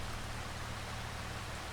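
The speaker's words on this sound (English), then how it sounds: "Typical, it's raining." Rain falling in the Farming Simulator 25 video game, a steady even patter and hiss of drops that is continuous and fairly soft, with no voices.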